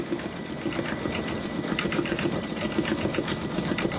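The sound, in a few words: Brother embroidery machine stitching a penguin design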